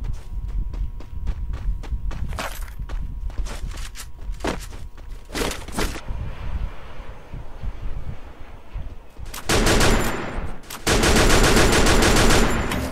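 Bursts of gunfire from a battle-royale shooter game echo near a tower after a hot drop, coming in scattered volleys with brief rapid strings, and a dense heavy barrage builds toward the end.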